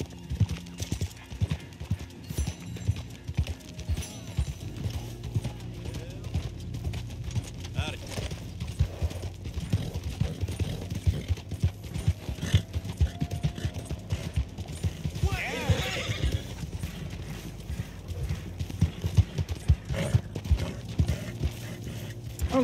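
A horse walks with steady, close clip-clopping hooves during a ride, the rhythm continuing throughout while a rider talks over it now and then.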